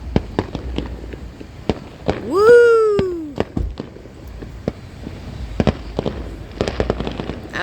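Fourth of July fireworks show with sharp crackling bangs and pops, a loud whistling rocket rising mid-clip, and a quick cheer from a voice among the bursts.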